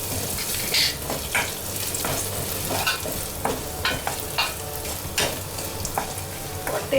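Garlic, dried red chillies, turmeric powder and curry leaves frying in hot oil for Chettinad-style paruppu masiyal, a steady close sizzle broken by repeated bursts of stirring and spatula scrapes, with no talking.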